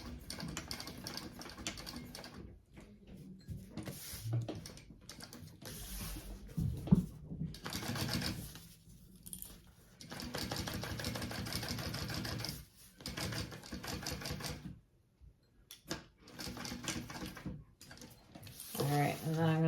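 A sewing machine back-stitches the corners of a tote bag, running in short whirring bursts separated by brief pauses, close and clear, with a voice talking at times.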